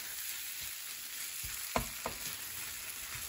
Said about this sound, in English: And now we got to stir. These eggs are really done.